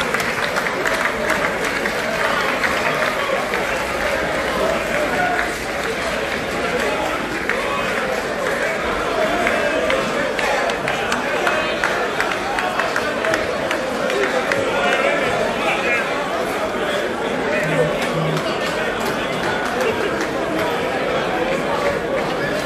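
A plenary assembly gives continuous, dense applause as three bureau members leave along a cleared corridor. The clapping runs steadily throughout with crowd chatter and voices mixed in.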